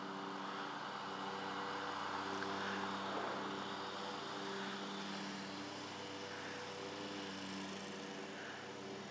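A lawn mower cuts grass on a Connecticut lawn, its engine a steady, unbroken drone at moderate distance for the whole stretch, with no voices.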